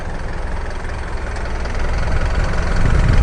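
The diesel engine of an Isuzu NLR 130 horsepower light truck idles steadily at close range, a low rumbling chug that grows slightly louder toward the end.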